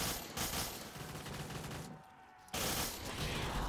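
Gunfire in the video game Black Ops 3 Zombies on a custom map: rapid, loud bursts of shots, a brief lull near the two-second mark, then firing resumes.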